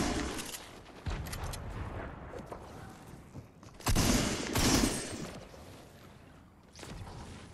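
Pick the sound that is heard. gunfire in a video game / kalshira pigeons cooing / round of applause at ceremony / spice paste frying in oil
gunfire in a video game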